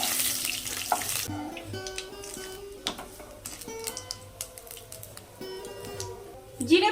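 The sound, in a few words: whole cumin seeds sizzling in hot mustard oil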